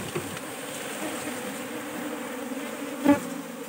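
A honey bee swarm buzzes in a continuous, fairly soft drone while a colony is collected into a hive box behind a school, with a brief knock near the end.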